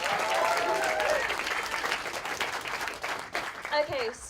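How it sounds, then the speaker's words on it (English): Audience applause and cheering fill a student comedy night at RHUL as a comedian walks on stage, a steady wash of clapping that swells, thins toward the end and gives way to a brief whoop or voice. "Please give a huge round of applause."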